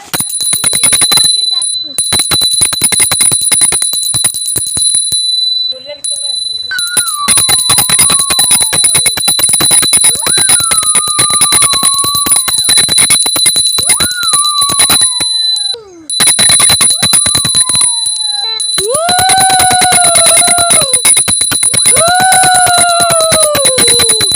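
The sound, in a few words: bell ringing loudly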